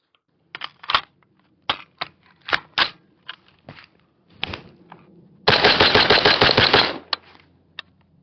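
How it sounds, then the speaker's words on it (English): Caracal 816A2 rifle fires a series of loud, sharp single shots spaced irregularly, then a dense rapid burst lasting about a second and a half, followed by a couple more isolated cracks. "And let's rip a couple rounds."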